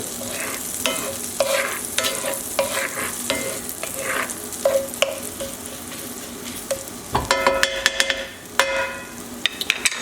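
Garlic frying in a pan for fresh linguine gives a steady, close sizzle broken by repeated utensil clinks and scrapes, with a louder clatter of stirring near the end.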